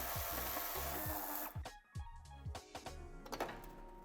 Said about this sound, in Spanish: Quitamos 2 tornillos.